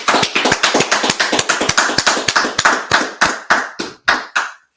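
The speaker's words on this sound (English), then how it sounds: "let's clap it up" Hands clap in a quick, uneven run of sharp slaps, dense at first and thinning into a few separate claps before stopping, close and loud with no talk.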